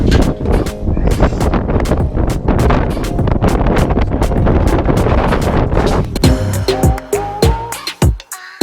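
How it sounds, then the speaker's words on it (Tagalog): Strong wind buffets the microphone in loud, rough gusts during a Vespa scooter ride, with a voice briefly breaking through near the end. "Ang lakas ng hangin ng pucha."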